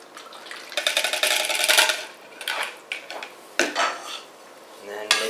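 Sweet and sour sauce poured into a Dutch oven over cooked chicken and stirred, with metal utensil scrapes and clinks against the pot in uneven bursts, fairly close, no talking.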